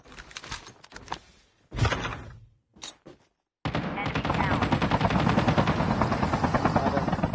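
Helicopter in the mobile shooter Call of Duty Mobile battle royale, its rotor chop becoming loud and steady after bursts of gunfire and thuds, with a player talking over the game.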